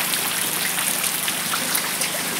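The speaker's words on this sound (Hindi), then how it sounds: "इस टाइप से बारिश हो रही है" Steady rain pouring outdoors in a village, a dense, even hiss of drops with no pauses or voices.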